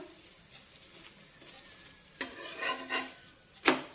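A beetroot paratha cooking on a pan as oil is spread over it, a faint sizzle punctuated by a few sharper scraping and spatula clinks, close and fairly quiet, no talking.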